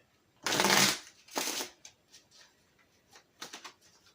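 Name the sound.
shuffling a deck of cards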